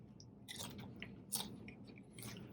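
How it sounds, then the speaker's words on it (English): Crunching bites and chewing of nachos close to the mic, several crisp crunches spread irregularly across a couple of seconds, quiet and alone. "They should hear lots of crunching this time."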